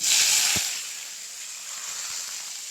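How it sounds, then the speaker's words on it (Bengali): Potatoes dropping into hot oil in a kadai set off a loud, bright hiss that surges at once and then settles into a steady, softer frying crackle, with a light thump near the start. "তেল গরম হয়ে গেছে, এখন দিয়ে দেব আলুগুলো।"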